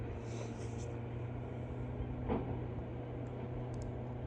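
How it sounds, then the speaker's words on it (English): Constant low mechanical rumble from distant mining machinery breaking rock near Valdez, Alaska, with a brief louder knock partway through. "they're mining to the left of us here"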